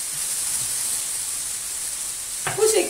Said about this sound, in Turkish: Bu şekilde soğan kavrulsun.